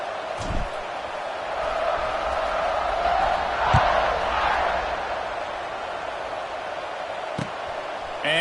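A college football stadium crowd at a Notre Dame versus USC game keeps up a steady, wide roar of cheering and murmur after a scoring drive, with occasional thumps and no clear talk in front.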